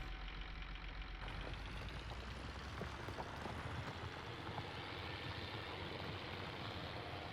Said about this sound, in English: So a little tractor actually has to work.